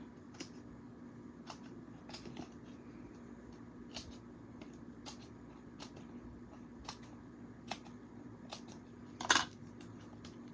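Scissors cut out paper with faint, regular snipping clicks over a steady low background hum, ending in a slightly louder crinkle of paper handling.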